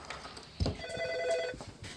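A shop or office telephone rings in a camp maintenance workplace, a single electronic ring tone lasting about a second amid faint background sounds.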